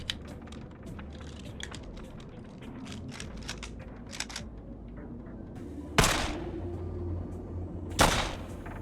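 Two sharp gunshots from the video game EMPYRE: Dukes of the Far Frontier ring out about two seconds apart, each loud with a brief decaying tail, after a stretch of quiet clicking and tapping.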